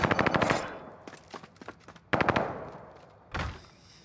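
AK rifle fire in a Call of Duty Warzone-style battle royale on the Caldera map, sharp close bursts of rapid shots in several volleys separated by short pauses, with a final single burst.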